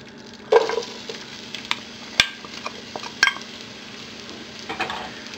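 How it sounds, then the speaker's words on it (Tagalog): Onion softening in melted butter in a cooking pot, a low steady sizzle broken by several sharp clinks and scrapes of a utensil stirring against the pot, close by with no voices. "Lulutuin lang natin tong onion hanggang sa lumambot ito."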